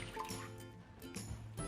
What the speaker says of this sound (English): we're gonna add the 2 cups of water into a bowl